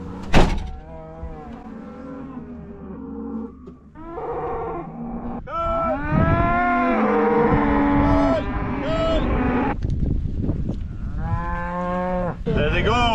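Cattle being let out of a shed on a Scottish farm moo repeatedly, several animals calling loudly and close by in overlapping bellows, with a brief voice near the start.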